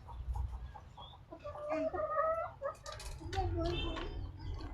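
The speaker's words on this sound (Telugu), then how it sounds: "మాకన్నా ఎక్కువ కోళ్ళ సౌండ్ అయిన పడుతుంది మా వీడియోలలో అయితే" Chickens cluck and squawk nearby in short irregular calls, faint and close, over a low background rumble.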